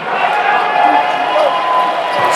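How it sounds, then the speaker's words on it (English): Spectators applaud and cheer after a service run at a Hawaii versus Stanford men's volleyball match in an indoor arena, a steady, dense wash of clapping that holds for the whole stretch with indistinct voices mixed in. "an applause from the crowd after that service run"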